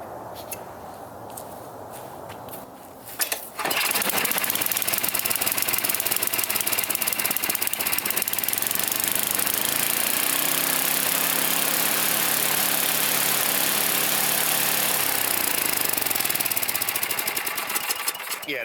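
A 9hp Tecumseh snowblower engine with an adjustable carburetor starts up after a few quiet seconds, then runs loud and steady near by, revving high throughout without pause.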